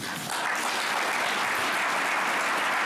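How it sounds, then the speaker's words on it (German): Audience applause after a speech at a 2019 DFG ceremony fills the room as a dense, steady wash of many hands clapping, with no voices. "Applaus"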